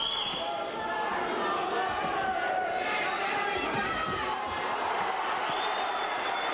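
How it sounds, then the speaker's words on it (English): A boxing crowd at a European title fight, a dense arena roar of voices and cheering that holds steady throughout, with shouts rising from the mass. "the crowd have grown in confidence and volume of noise after that last round"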